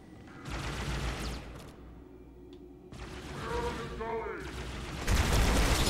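Gunfire in the Halo 2 video game during a fight with a Hunter, with bursts of shots and booms of varying loudness running throughout and a louder blast near the end, with no clear talk in between.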